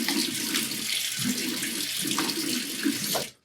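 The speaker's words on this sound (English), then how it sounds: "let me just rinse out this razor" Running tap water rinsing a brass safety razor in a sink, a steady close splashing stream broken by short bursts as the razor moves through the flow, ending abruptly.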